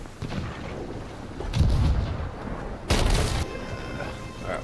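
Ship cannons fire in the pirate game Sea of Thieves, with two heavy booming blasts against a constant rush of wind and sea noise.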